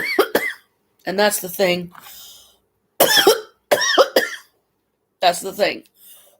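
A person coughs in short, harsh bursts, mixed in with a few words of their own speech, close and clear.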